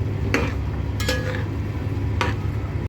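Okra curry with spices being stirred in a pan, a spoon scraping and clinking against the metal in a few distinct strokes over a continuous low simmer and sizzle, close and fairly loud.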